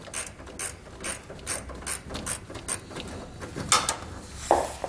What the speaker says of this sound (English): Then we can hold the bump stop in place and finish removing our nut.